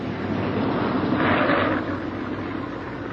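A B-17 Flying Fortress bomber coming in to land after a combat mission, its engines a steady, loud droning rumble that swells briefly midway and then settles, with no voices over it.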